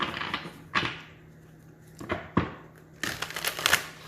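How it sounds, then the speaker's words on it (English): A deck of tarot cards being shuffled during a card reading, heard as several short crisp riffling bursts separated by pauses, with a louder, denser flurry near the end. "That's not a good shuffle."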